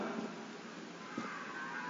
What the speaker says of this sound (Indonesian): Wah, ada suara sapi.